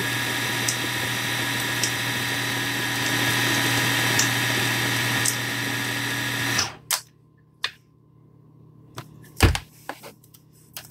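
A kitchen blender runs steadily and loud for several seconds, then cuts off abruptly, followed by scattered clinks and knocks as the protein shake jar is handled.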